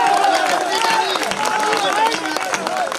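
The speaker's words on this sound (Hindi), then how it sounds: "तालियां कमजोर है आपकी।" Audience applause at a Hindi satirical comedy poetry stage show, a dense, steady wash of clapping from a crowd lasting throughout, with a performer's voice carrying over it.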